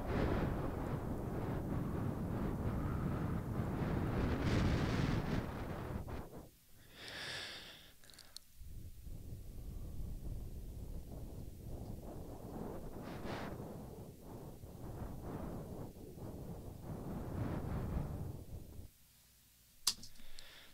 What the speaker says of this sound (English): Just blowing into the mic.